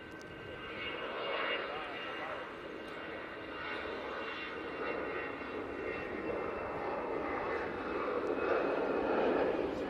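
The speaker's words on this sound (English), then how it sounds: "EasyJet A320 off to Amsterdam." An EasyJet Airbus A320 takes off at an airport, its jet engines roaring in a steady, broad rumble that swells slightly toward the end, heard from a distance with voices faintly beneath it.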